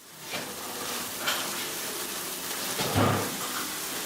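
Pork sizzles and crackles steadily on a grill, a dense close-up frying hiss with occasional louder pops and stirring sounds.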